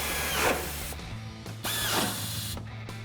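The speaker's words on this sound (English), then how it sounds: "Grab your 14mm socket and tighten these down." Factory nuts are tightened with a 14mm socket on a power tool while a bull bar bracket is fitted to a 2016-2019 Tacoma, giving two close, whirring bursts that strain and stop.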